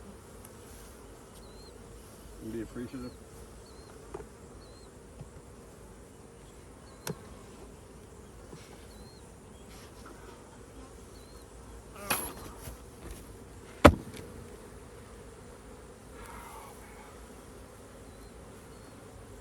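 Honey bees buzz steadily and faintly around hives in a cow pasture apiary, with a few sharp knocks and thuds from hive work and a brief spoken phrase.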